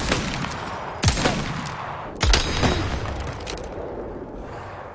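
Hand cannon from Resident Evil 4 Remake, set to unlimited ammo, fires two loud, booming shots about a second apart, each followed by a fading echo over quiet game ambience.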